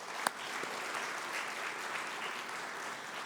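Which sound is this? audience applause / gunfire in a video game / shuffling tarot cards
audience applause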